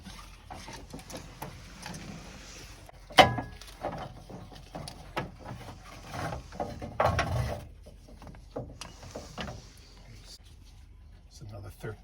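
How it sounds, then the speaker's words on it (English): Wrench loosening 13 mm bolts on a Volkswagen Vanagon alternator bracket, with scattered metallic clicks, ratcheting and clanks, one sharp knock near the start, and someone talking through much of it. "All right, loosening up the alternator."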